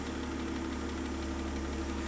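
A rebuilt Mercedes-Benz 300CE with an M103 engine, fresh timing chain, head gasket, water pump and tensioner, runs at a steady idle with an even low hum and faint rhythmic ticking, quiet and with no talk.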